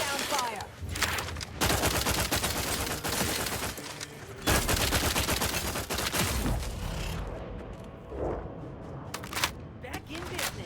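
Gunfire in The Outer Worlds 2, dense bursts of automatic shots and heavy blasts in a loud firefight, easing off toward the end into scattered impacts.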